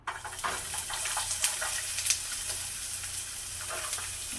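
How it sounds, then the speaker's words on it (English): Sweet onion sizzles in a hot oiled pan for Korean-style loco moco, a moderate, continuous crackling fry with a few sharper pops, close and with no talking. "I've got a hot pan and some oil going. I'm going to start off with a little bit of onion."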